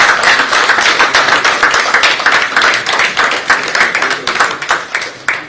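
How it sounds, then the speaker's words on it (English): Loud, close audience applause at a business school award ceremony in Goa, a dense rapid clapping that holds steady and then thins slightly toward the end. "Give him a big round of applause, ladies and gentlemen."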